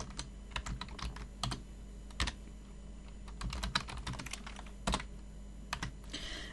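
Someone types on a computer keyboard while entering a command on an Ubuntu server setup, producing irregular bursts of close, crisp key clicks with short pauses between them.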